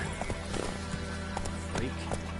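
Roach the horse in The Witcher Wild Hunt moves at speed with clip-clopping hoofbeats in a loose rhythm, set against a steady wind-like rush and game background noise.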